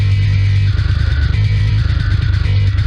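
Fat, aggressive bass track in a heavy music mix, loud and continuous with a dense distorted low end and grinding upper texture.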